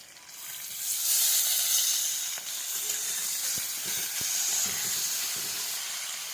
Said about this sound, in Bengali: এবার দিয়ে দিচ্ছি চিংড়ি মাছ।